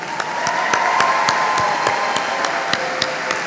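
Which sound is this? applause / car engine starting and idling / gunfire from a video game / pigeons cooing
applause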